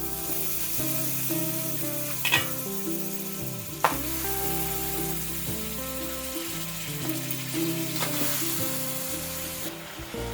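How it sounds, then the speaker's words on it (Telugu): Crabs go into a hot pan for Andhra-style crab iguru, giving a loud, close, steady sizzle punctuated by a few sharp clacks of shells and utensil against the pan. "ఇప్పుడు ఇందులో పీతలు వేసేసుకుందాం."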